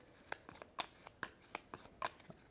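Board game cards being shuffled by hand at a table, a series of quick riffling snaps and soft taps, close and fairly quiet.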